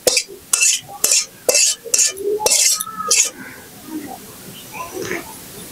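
Homemade magic masala spice mix being stirred and scraped into a bowl with a spoon, a quick run of clinking, scraping strokes against metal, close and fairly loud, then fading to quieter rustling.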